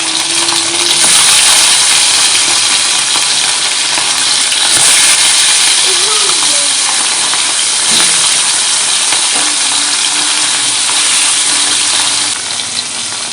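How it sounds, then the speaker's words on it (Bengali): Parshe fish frying in hot oil in a wok, a steady, loud broadband sizzle that fills the whole stretch with faint stirring clinks and no talk. "তেল গরম হয়ে গেছে, মাছগুলো দিয়ে দেবো কড়াইতে।"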